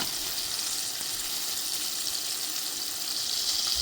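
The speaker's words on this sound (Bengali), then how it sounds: "এভাবে আমি লাল করে মুচমুচে করে ভেজে নেব।" Flour-coated chicken deep-frying in hot oil until crisp gives a dense, continuous hiss of sizzling, close and fairly loud, holding steady throughout with no voices.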